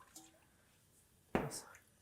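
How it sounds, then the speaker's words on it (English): Cooking oil poured into a pan for a hearty Pakistani home-cooked dish: after near silence comes a sudden splashing, sizzling burst that trails off over about half a second. "we wanna pour the oil in"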